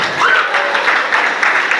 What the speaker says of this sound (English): Coding, clap for them.